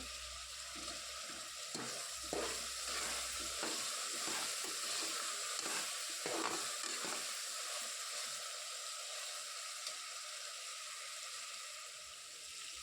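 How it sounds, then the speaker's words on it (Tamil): Curry leaves sizzling as they drop into hot oil in a home kitchen, a bright frying hiss with a few crackling bursts that settles into a steady sizzle, no voices. "இப்போ இதில் வந்து நான் கொஞ்சமாக வந்து கருவேப்பிலை சேர்த்துக்கிறேன்"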